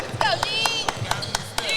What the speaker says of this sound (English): Got a mom right behind us who's enthusiastically clapping for the D